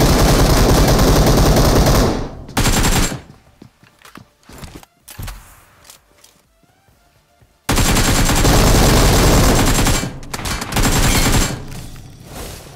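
Loud, sustained automatic gunfire in a battle royale shooter: two heavy barrages, one at the start and one in the second half, separated by a quieter gap of footsteps and scattered single shots.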